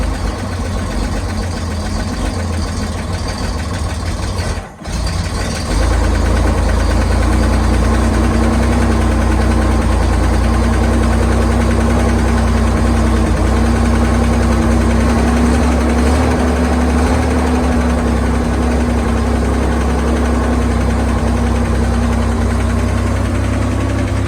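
A 1969 Chevy Corvair engine runs steadily and loud, with a constant idling drone and mechanical clatter, a brief dropout near five seconds, then continuing unbroken for over twenty seconds.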